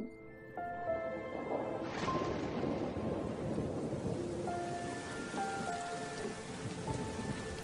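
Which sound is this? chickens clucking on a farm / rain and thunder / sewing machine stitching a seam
rain and thunder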